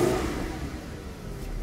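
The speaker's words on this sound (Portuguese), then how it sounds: "Vou dar uma aceleradinha pra ele viajar." Lamborghini engine on its original exhaust revving from inside the car, a steady low rumble that holds across the clip with a slight swell near the end.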